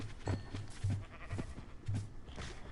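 Minecraft cows during breeding, a series of short low bleating moo-like calls repeating at roughly even intervals over faint background game ambience.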